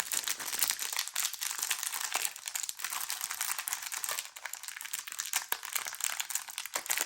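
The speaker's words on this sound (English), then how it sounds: "I'm just going to open all these up." Plastic wrapping is pulled off new drills in a steady stream of faint, close crinkling and rustling, continuous and uneven, with no voices.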